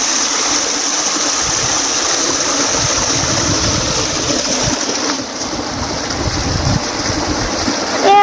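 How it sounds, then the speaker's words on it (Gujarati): Irrigation water flowing through a field channel in a village, a steady rushing and gurgling stream heard close and continuous, with brief low rumbles beneath. "બહાટે આવશે પાણી"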